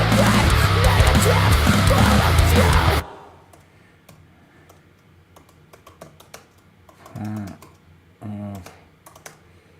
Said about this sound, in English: typing lyrics after I tracked them